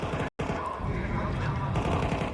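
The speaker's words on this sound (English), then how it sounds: "MouZinho up close on the SMG." Submachine gun fire in Counter-Strike 2 at a professional major tournament, a dense continuous burst of close-range shots under excited caster commentary, with a brief dropout near the start.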